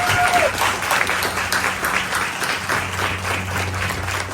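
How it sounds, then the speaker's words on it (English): A room full of guests applauds at an evening reception, steady dense clapping that holds at an even level throughout with a faint low hum underneath and no voices. "So can we please give a round of applause"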